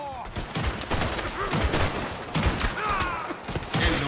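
Gunfire in Red Dead Redemption 2 during a gang shootout: repeated loud gunshots at an irregular rhythm, some close and some farther off, under frequent excited talk from the player.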